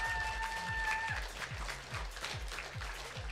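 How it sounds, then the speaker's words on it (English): Steady crowd applause at a school esports event fills the space, a dense wash of clapping with a faint tonal hum early on and low thumps underneath. "Let's give a big round of applause for them."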